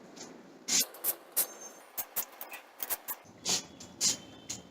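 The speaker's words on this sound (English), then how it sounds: "Now some spray." A string of short aerosol makeup spray bursts, about ten quick hisses in uneven rhythm, close by with no talking.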